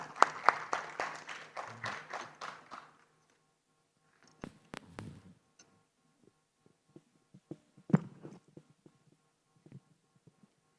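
Brief round of audience clapping at a conference panel as a guest comes on stage, fairly quiet, dying out after about three seconds into near silence with a few scattered knocks and footsteps.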